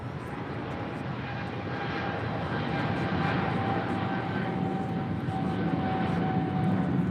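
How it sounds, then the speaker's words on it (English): An EVA Air Boeing 777-300ER jet departs from LAX toward Taipei, its engines a steady, broad roar that holds loud and even throughout without voices. "This is EVA Air Flight 15 departing to Taipei on a 777-300 ER"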